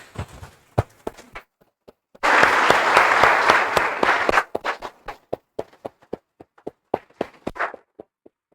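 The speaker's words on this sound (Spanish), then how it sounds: "Damos un aplauso, hermanos." Church congregation applause, a dense two-second burst of clapping framed by sparse scattered individual claps before and after, fairly close and with no one talking.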